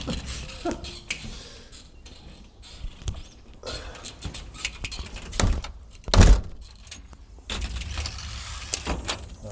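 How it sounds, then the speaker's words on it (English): A car door slams shut once, a loud solid thunk near the middle, amid rustling, creaks and other handling noises outside a parked car by a river. "I do have to shut the other door"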